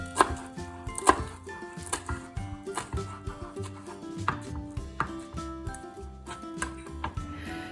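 A kitchen knife chops fresh basil into thin ribbons on a cutting board, a steady run of close, crisp knocks that repeat in a loose rhythm for several seconds with no voices.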